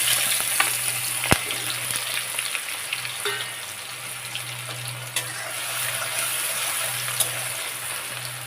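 Dried chillies, cumin and onion fry in oil for a mixed vegetable dish with Bombay duck, a soft, even sizzle over a low steady hum, with occasional faint clicks and stirs.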